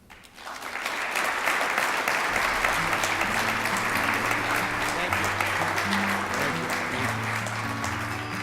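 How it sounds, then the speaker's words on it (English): Sustained applause from an audience at a university alumni awards ceremony, swelling within the first second and holding steady, with soft music playing underneath. "You guys are clapping because you know I'm the last one."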